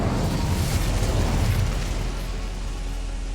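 Incendio fire spell cast in the Hogwarts Legacy video game, a loud whooshing burst of flame with a deep rumbling body that swells in the first half and then slowly fades, with no talking.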